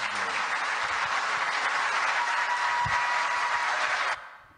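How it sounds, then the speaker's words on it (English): Rapturous applause from a large audience, a dense, steady roar of clapping that holds for about four seconds before cutting off sharply into quiet. "Rapturous applause."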